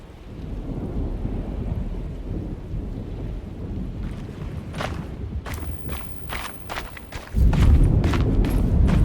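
A thunderstorm in the video game Alone in the Dark, with steady heavy rain and a deep rolling rumble of thunder that swells loudly near the end, alongside footsteps and scattered sharp clicks.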